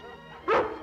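Lassie, a cartoon dog, gives one short, clear bark that stands out over faint background music.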